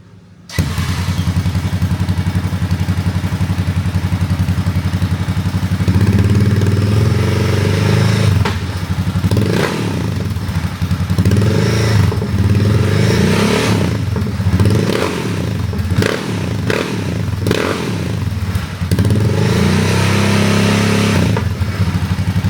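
A carbureted car engine, run while its jets are being changed and tuned, roars steadily and loudly close by, climbing through repeated revs and throttle blips with rough, clattery surges across the whole stretch.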